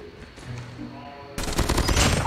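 A Krig-6 assault rifle in a shooter game fires after a quieter stretch with faint background tones, then breaks into a loud, dense burst of rapid automatic shots.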